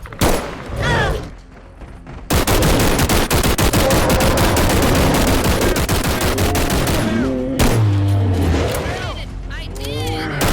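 Sustained rapid automatic gunfire in a Bigfoot hunting video game, loud and dense, with vehicle noise and people talking over it before and after the burst.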